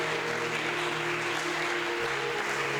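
A church congregation applauding in praise during a French-language worship service, a steady dense clapping wash filling the whole stretch with a low sustained musical drone beneath it.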